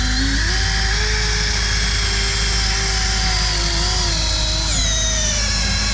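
A power drill bores a roughly 12-inch-deep bit into a thick seam of red clay mud. The motor whines loud and close with a steady pitch that wavers and dips as the bit bites, running without pause.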